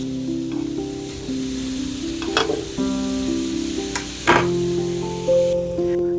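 Chopped onion drops into a hot pan already holding serrano peppers and tomatoes, with a couple of louder sizzling bursts rising over a steady fry, under steady background music.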